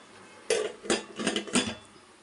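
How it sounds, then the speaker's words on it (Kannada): A lid set onto a pot while cooking mushroom biryani: four sharp metallic clanks in quick succession, close and loud, ringing briefly over a quiet kitchen. "ಈಗ ಒಂದು ಮುಚ್ಚಳ ಮುಚ್ತೀನಿ ನಾನೀಗ"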